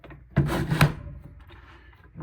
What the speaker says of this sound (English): 60 grit and just continue this convex edge and just clean it up a little